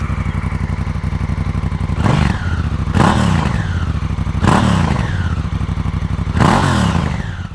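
Honda Africa Twin used motorcycle engine at close range, a steady idle broken by four sharp throttle blips spaced about two seconds apart, each rising quickly and falling back, loud and alone.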